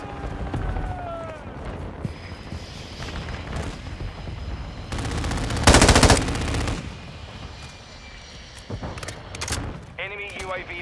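Rapid machine gun fire in Modern Warfare 2 rattles in loud, close bursts, with a dense peak of sustained firing midway and scattered shots and game effects around it.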